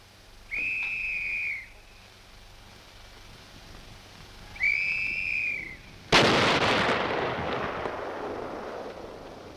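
At Aberdeen Proving Ground, two sustained whistle tones sound in turn, then an artillery missile test firing erupts in a sudden loud, roaring blast that rumbles on to the end.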